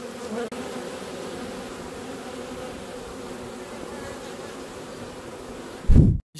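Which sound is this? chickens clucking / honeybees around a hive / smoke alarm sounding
honeybees around a hive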